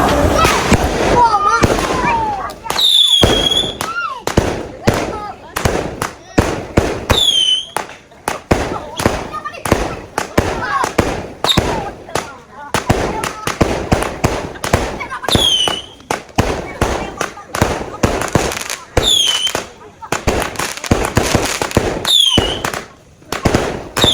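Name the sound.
fireworks being set off at home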